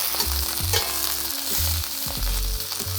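Chicken pieces fry in a big pan with a steady, loud sizzle and crackle throughout, punctuated by low thumps and hums from the kitchen.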